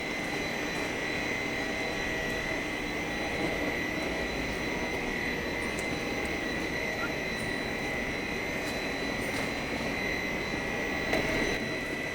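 Air pump on a PET plastic sheet machine running steadily, a constant whirring drone with a high hum layered over it, unchanging and alone for the whole stretch.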